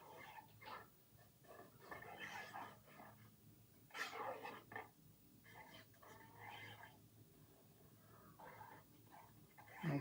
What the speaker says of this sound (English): My kitty is out there just talking away.